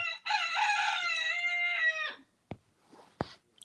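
A rooster crows once, loud and close, a long sustained cock-a-doodle-doo, followed by a couple of sharp brief clicks and faint background sounds.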